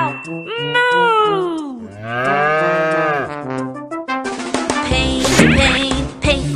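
A singer cries a cartoonish moo in a bouncy children's song about face painting, the voice imitating a cow in long, swooping sung tones over a lively music backing.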